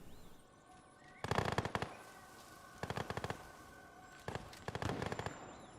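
Flares explode in the video game Fallout 4 as three separate bursts of rapid crackling pops, like firecracker strings, each lasting about half a second over a faint background.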